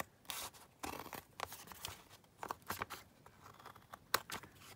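Scissors snip through fabric tags in a quiet room: a string of soft, crisp cuts in uneven bursts, one sharper snip standing out near the end.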